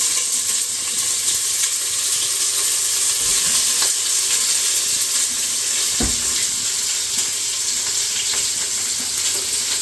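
Onions hit hot oil in a pan for an Arabian chicken kabsa biryani, raising a loud, continuous hiss of frying with a few soft knocks, no voices.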